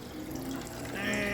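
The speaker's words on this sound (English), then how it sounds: "And there's starting to drip right there." Apricot moonshine trickling out of a still, a soft, steady liquid wash that grows slightly fuller toward the end, with no voices.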